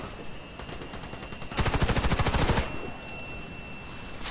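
Automatic weapon fire in the online shooter Warface, a team deathmatch on an air base map: a dense, rapid burst of shots lasting about a second, loud and close, set against quieter background game sounds, with no talk.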